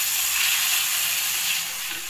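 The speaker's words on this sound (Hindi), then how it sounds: "1-2 मिनट फ्राई करेंगे।" Chicken pieces frying in a pan for restaurant-style chicken fried rice, giving a steady, close, continuous sizzle that holds even throughout and eases slightly toward the end.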